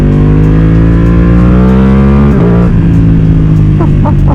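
A Ducati Panigale V2 motorcycle with a flashed engine revs loudly on throttle in sport mode, a dense, close engine drone with climbing harmonics, a brief shift mid-way, then sharp rising revs near the end; no talking.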